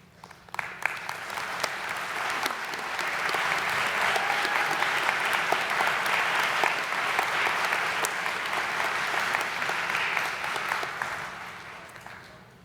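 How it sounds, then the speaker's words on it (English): Audience at a 2022 spring commencement ceremony in Rochester, NY applauding the faculty, a sustained, dense round of clapping that swells in over the first two seconds, holds steady and tapers slightly at the end. "I invite the faculty to stand and to receive a round of applause from our"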